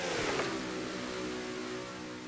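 Stock race car engine screaming at speed in a racing video game, a loud sustained drone with a sweeping pitch shift early on as the car passes, steady through the rest.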